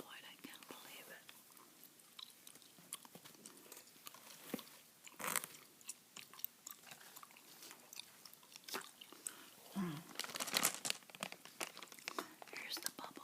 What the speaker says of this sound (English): Here's the bubble gum I'm chewing tonight, by the way. Double bubble.